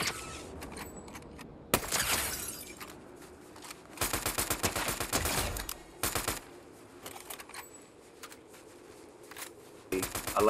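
Gunfire in the video game Fortnite, with rapid automatic bursts and single shots crackling in clusters across the span, some louder and nearer, others distant, with brief gaps between volleys.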